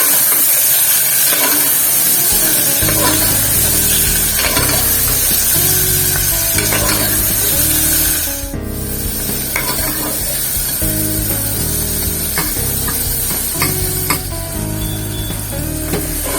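Tomatoes sauté in a pan for athikai kootu, a steady loud sizzle with scraping stirs and clinks of a spoon against the pan throughout.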